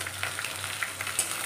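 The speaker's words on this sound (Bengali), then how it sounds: "পেঁয়াজটা একটু ভাজা ভাজা হয়ে গেলে চিংড়ি মাছগুলো দিয়ে দিলাম।" Prawns fry in hot oil with onion and green chili for a bottle gourd prawn dish, giving a steady close sizzle with small crackling pops and no voices.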